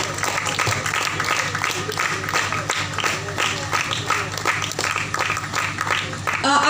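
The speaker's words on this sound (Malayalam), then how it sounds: "നല്ലൊരു ക്ലാപ്പ് കൊടുക്കണം." Sustained audience applause from a crowd at an Onam cultural event in Anathadam, Thrissur, steady dense clapping throughout, swelling louder at the end.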